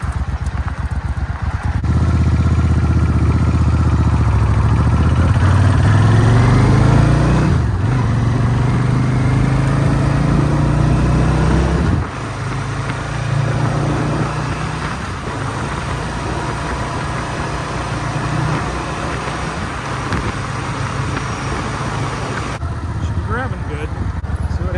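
2003 Suzuki Intruder VS800 motorcycle pulling away on a ride, a loud close engine rumble that rises as it revs and shifts through gears before settling into a steadier drone, with a voice over it.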